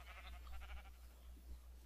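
Sheep in the video game Minecraft bleat in a quick run of nasal calls, several overlapping, over a steady low hum, with no talk.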